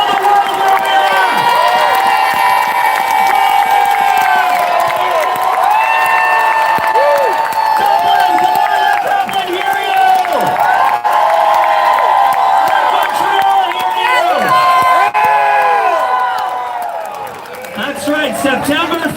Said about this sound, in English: I want you to give yourselves all a big round of applause for coming today.